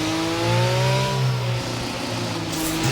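An F1 22 video game race car engine revving against the limiter at the British Grand Prix, a loud steady buzzing whine with slight pitch wavering, sustained and close throughout.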